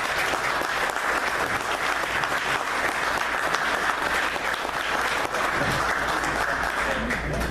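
An audience at a monthly meeting gives a warm round of applause to welcome a speaker. The loud, dense clapping fills the room and continues evenly throughout.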